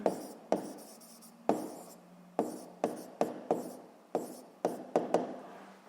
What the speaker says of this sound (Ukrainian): Ну що ж, записуємо тоді відповідь. Пишемо відповідь.